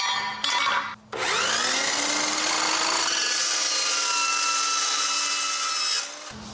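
A power cutting disc slices through a flat iron bar being trimmed to size for a custom frame bracket on a 1966 Ford Mustang GT, a loud, steady high-pitched grinding whine running several seconds after a short spin-up.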